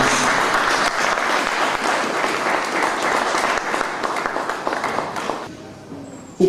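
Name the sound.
audience applauding at book launch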